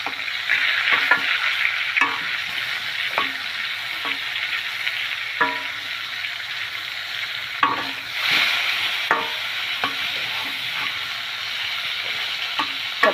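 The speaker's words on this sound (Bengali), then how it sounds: "এখন মাছটিকে এক এক করে আমি উল্টে দিব" Snakehead fish pieces frying in hot oil, turned over one by one, with a constant loud sizzle broken by repeated clinks and scrapes of the utensil against the pan.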